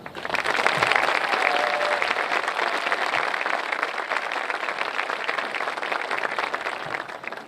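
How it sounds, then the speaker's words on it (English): A large crowd at a high school graduation ceremony gives teachers a sustained round of applause, dense, even clapping filling the space steadily for over seven seconds, heard at a moderate distance without speech. "I ask for everyone to join me in giving them a round of applause right now"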